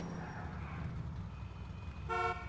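A car horn in Grand Theft Auto IV gives one short, clear blast near the end over a low, steady engine rumble.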